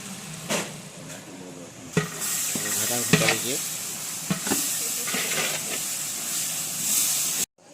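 Masala fries in a large pan for a village-style goat mutton dish, with a continuous loud sizzle and hiss broken by repeated scraping and clanking stir strokes, plus a brief voice in the background.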